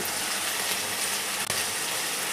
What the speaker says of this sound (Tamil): ஒரு கிளாஸ் தண்ணி விடுங்க